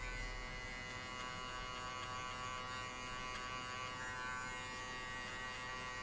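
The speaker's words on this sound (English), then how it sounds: "I will flick the clipper to the end" An electric hair clipper cutting a taper fade hums with a constant close buzz, steady and unbroken throughout with no talking.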